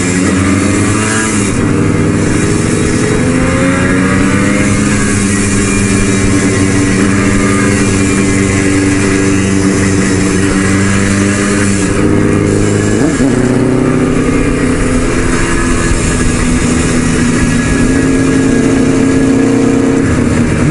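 Several motorcycles, a Honda 750 among them, cruise along Utah's old Highway 91 on a club charity ride, their engines droning loud and steady throughout with rising and falling revs as the riders change speed.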